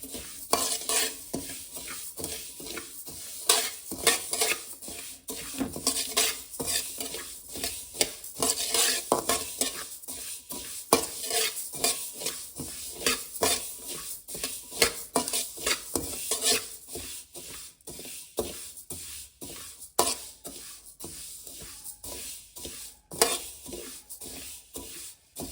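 About five grams of cumin seeds roast in a pan for wedding-style sambar powder, stirred briskly and continuously so they rattle and scrape with a faint sizzle, close up and constant for the whole stretch, with no voices.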